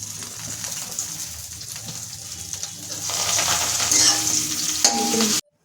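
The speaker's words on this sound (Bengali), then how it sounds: "এই দিয়ে আমি কচু পাতাটাকে ভেজে নেব" Taro leaves frying in a pan, a steady close sizzle with stirring sounds that grows louder partway through before stopping abruptly.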